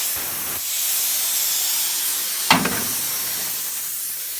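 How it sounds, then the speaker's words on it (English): A half-empty, clogged can of spray paint hisses in a steady, fairly close spray, cutting out briefly and then resuming with a louder sputtering burst midway. "Half empty, stopped up can of spray paint experiment."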